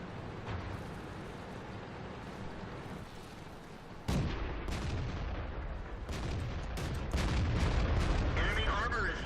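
A T25/2 tank destroyer battles in World of Tanks on the Redshire map: heavy cannon booms and shell impacts crack over a constant rumbling battle bed, with several sharp blasts clustered in the second half.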